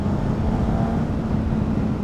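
A 2010 Honda CBR600RR PC40 supersport motorcycle engine at full throttle below 9,000 rpm, a loud, steady low drone with a rough buzzing tone held for two seconds, without talk.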